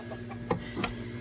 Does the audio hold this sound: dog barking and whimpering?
no